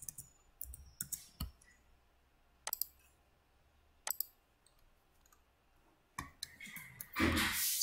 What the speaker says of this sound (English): So to use extend, you left click the line